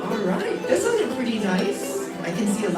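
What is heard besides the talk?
No everyday noise stands out behind the speech.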